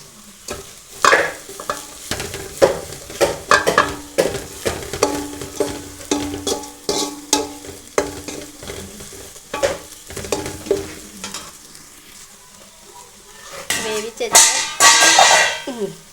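Food sizzles in a pan while being stirred and mixed, with rapid repeated scraping and clattering strokes, a quieter stretch, then a loud burst of sizzling and stirring at the end.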